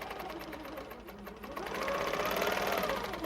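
A Handi Quilter quilting machine stitches along a ruler with a close, steady motorized hum and rapid needle chatter that grows louder and higher partway through and then holds.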